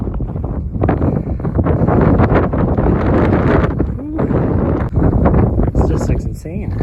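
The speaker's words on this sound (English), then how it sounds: "A lot windier up here." Strong wind buffets the microphone on a mountain trail, producing a loud, continuous low rumbling roar with gusty surges, while people talk over it.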